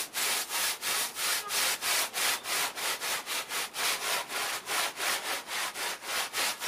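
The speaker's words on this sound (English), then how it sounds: "So I'm not going to go too mad with the brush and just really brush it on rather than scrub it." A paintbrush brushes masonry paint onto an outside wall in steady, rhythmic back-and-forth strokes, each a close, bristly rasp repeating about three times a second, heard alone with no talk.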